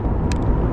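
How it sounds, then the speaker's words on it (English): Road cars pass in late-afternoon town traffic, a loud, close, steady engine and tyre roar filling the short moment with a brief higher hiss partway through and no talking. "I hate 5 o'clock traffic and everything like that."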